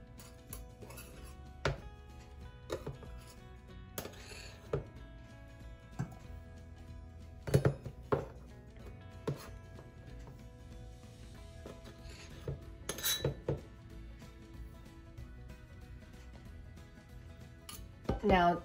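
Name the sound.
mixing all-purpose flour in a small bowl for fry bread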